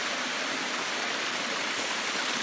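A waterfall roars steadily nearby at Middle Black Clough, a dense, continuous rush of falling water with no pauses.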